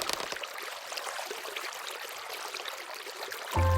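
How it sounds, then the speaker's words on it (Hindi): Water swirls and rushes steadily in a pond as an animated story sound effect, a continuous bright churning wash, ending abruptly in a tonal hum. "अचानक पानी में एक तेज भंवर उठा"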